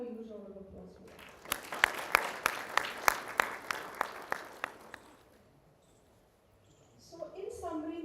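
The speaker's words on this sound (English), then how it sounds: "Can we have a huge round of applause for that?" A small audience at a principals' conclave claps in sparse, distinct, rhythmic beats that fade after a few seconds, with a voice speaking before and after the clapping.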